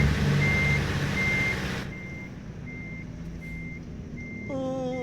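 A Peterbilt 579 truck reverses in American Truck Simulator. Its backup alarm gives steady, evenly spaced beeps over a constant engine rumble, with no talking.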